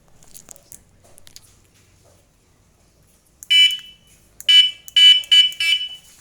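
A harsh, high-pitched electronic honking sounds in short repeated bursts, one then a rapid series of four, loud and close after a quiet stretch.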